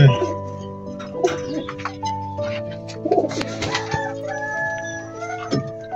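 Pakistani Giribaz pigeons coo in soft, repeated throaty bursts close by, with a rooster-like crow and other fowl calling alongside in a busy loft.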